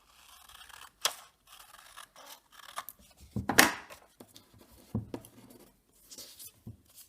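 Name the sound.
scissors cutting paper into a geometric shape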